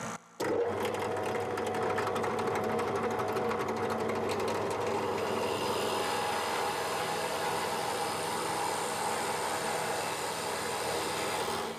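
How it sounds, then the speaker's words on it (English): A power drill whines steadily for several seconds after a brief start while drilling through wood, a continuous buzzing motor drone, close and loud with no talking. "we'll just drill through so I'll get the threaded inserts in"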